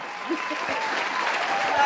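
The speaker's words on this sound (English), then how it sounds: "Another round of applause for the fabulous filmmakers that you guys are" Brief burst of clapping from the audience at a film screening event, dense and fairly close, with faint voices mixed in.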